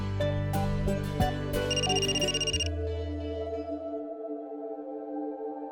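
A phone rings with an incoming call: a bright melodic ringtone plays a few clear notes, then its tones fade and linger softly with no voices.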